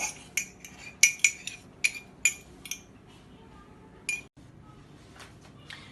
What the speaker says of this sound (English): give it a good whisk, making sure that everything is mixed in together